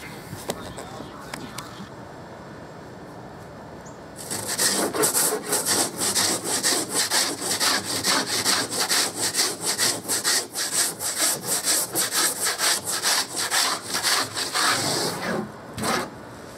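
A hand tool rasping and shaving wood while shaping part of a canoe upgrade, a quiet start giving way to a long run of fast, rhythmic, close strokes that stop near the end.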